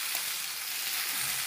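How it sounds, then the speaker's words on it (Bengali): Okra frying in a pan in a home kitchen, a steady close hiss and sizzle of hot oil with faint crackles, no voices. "আর এদিকে ভেন্ডি ভাজা হচ্ছে"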